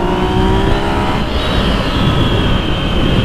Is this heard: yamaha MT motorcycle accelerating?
yes